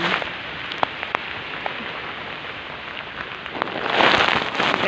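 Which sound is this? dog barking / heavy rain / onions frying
heavy rain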